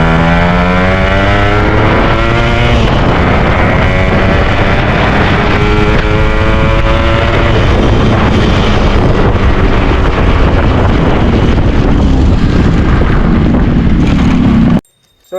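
A Yamaha RX100 motorcycle engine revs loudly on a ride, its rising and falling buzz heavily buffeted by wind noise on the microphone, close and continuous before cutting off abruptly.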